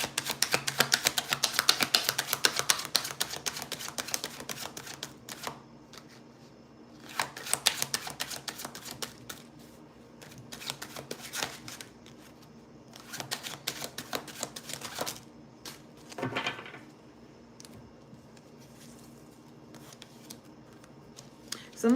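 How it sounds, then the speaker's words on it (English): Tarot cards are shuffled in quick, papery riffling bursts that come in several separate spells. The shuffling is close and fairly quiet, with quieter pauses between bursts. "I was having a hard time shuffling them cards"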